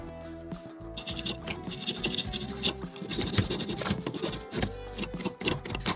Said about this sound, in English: give it a good clean with a steel brush